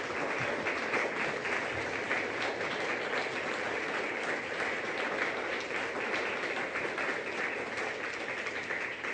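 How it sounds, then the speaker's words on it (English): Audience at a mayoral debate forum applauds the candidates, a steady wash of many hands clapping that holds evenly for the whole stretch without talk. "Please join me in thanking our candidates for participating in tonight's forum. You may now applaud if you like."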